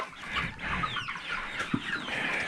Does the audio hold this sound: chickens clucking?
yes